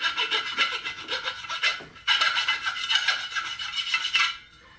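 A hand file rasps across small nicks on a wheel rim in steady back-and-forth strokes, a close gritty scraping that pauses briefly midway and then resumes before stopping.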